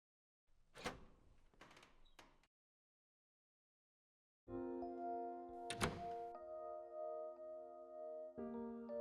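An apartment door in the game TwoFold is unlocked: a few sharp mechanical clicks and thunks of the lock, a pause of quiet, then another solid clunk over a sustained tonal background, all heard up close without talk.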